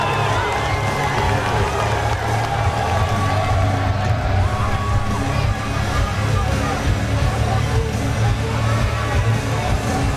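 A massive arena crowd at a boxing event cheers and roars continuously, dense and loud, with shouts and whoops over a steady din and voices mixed in.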